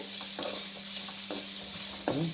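Okra fries in a pan with a soft, continuous sizzle, cut through by several light scraping stirs and one sharper clink near the end.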